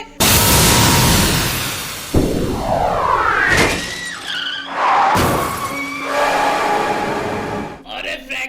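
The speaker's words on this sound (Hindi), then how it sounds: "अरे यार सिंचन पिंचन, इतना ज्यादा बड़े वाला एस्ट्रॉइड हमारी गाड़ी के ऊपर ही आके गिरना था।" Violent car crash as an asteroid slams onto a car in GTA 5, a long loud roaring smash with tire skidding, crunching metal and shattering glass that sweeps and rumbles for several seconds before fading.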